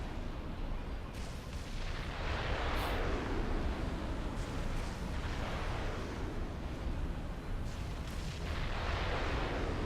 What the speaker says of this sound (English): And in comes the mobile missile launchers once more.